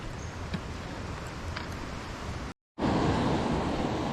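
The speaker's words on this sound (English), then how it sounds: "This is where the creek flows right past the front of the cabin." Big Pine Creek rushes past a cabin in a steady, close, broadband wash of flowing water that drops out briefly to silence and then returns louder and fuller.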